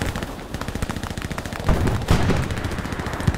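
Sustained machine gun fire in the Hell Let Loose video game around a house at a crossroads, a dense rapid rattle of bursts with a few heavier thumps midway, with no talk.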